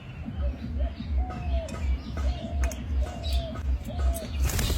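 Pet pigeons or doves coo repeatedly while bathing in a dish of water, soft rhythmic calls close by over low rumbling background noise and occasional splashy rustles.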